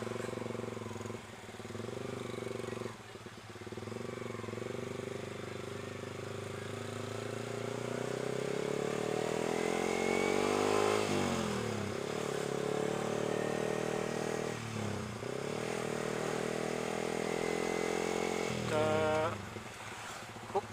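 Motorcycle with a loud aftermarket exhaust revving and accelerating through traffic during a political campaign rally ride, engine note rising and falling in sustained pulls up close, with a brief voice partway through.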